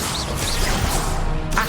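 A Confringo fire spell in Hogwarts Legacy bursts out as a loud, dense blast with a rushing whoosh, sustained and explosive over in-game ambience, no speech.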